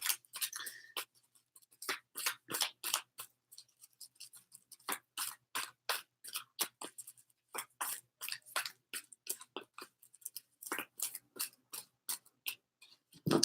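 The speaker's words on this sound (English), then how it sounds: "as I'm shuffling the cards" Tarot cards are shuffled by hand in a quiet room, a long run of crisp, close riffling snaps and clicks in uneven bursts, with short pauses between them.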